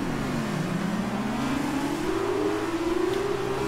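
An F1 2019 race car engine revs at the race start, a steady mid-pitched drone climbing smoothly in pitch as it accelerates, moderately loud and continuous with no talk over it.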